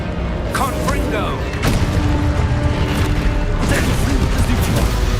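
A Confringo spell explosion in a Harry Potter video game lands as a dull boom partway through, followed by steady rumbling and crackling mechanical noise that stays loud to the end.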